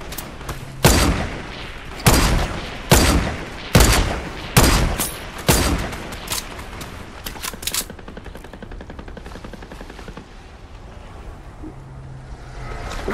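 Bursts of gunfire in a Fortnite zero-build duos battle royale match, six or seven loud sharp shots in an irregular run over the first eight seconds, then fading into a low rumble of wind and water with no talking.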